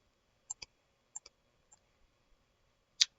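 A computer mouse clicks sharply several times in a quiet room during 3D design work in Fusion 360, in spaced pairs and singles, close and crisp, with no speech.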